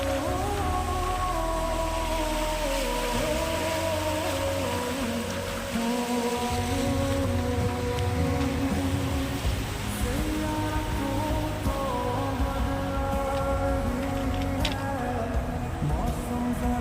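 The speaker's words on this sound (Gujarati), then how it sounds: "જો આ બધું પાણી જ જાય પાણી પાણી ભર્યું" Rainwater rushes through a drain in a Gujarati village, a continuous loud gurgling flow with a low rumble, while faint tonal background sounds drift underneath.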